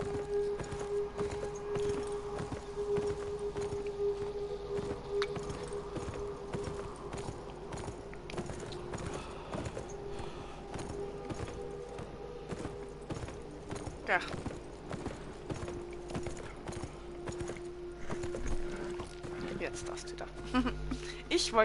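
Rapid rhythmic hoofbeats of a galloping horse in the video game Beyond: Two Souls run steadily throughout, with a steady tone and people talking over them.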